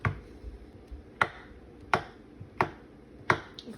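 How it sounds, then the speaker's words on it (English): A knife chops Parmesan cheese on a cutting board in sharp, close taps, about five or six irregular strikes over a few seconds, with no talking. "Quick chop Parmesan. Just chop it up."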